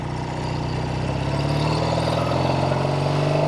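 A 1968 Triumph Bonneville 650 motorcycle engine runs steadily while being ridden, a continuous close, loud drone with a low throbbing note that holds even throughout.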